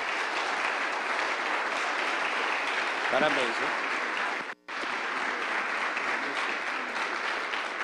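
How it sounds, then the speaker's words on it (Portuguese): Steady, enthusiastic applause from an audience fills the whole stretch, with a brief spoken line near the middle and a momentary dropout shortly after. "Muito bom, salva de palmas para essa família."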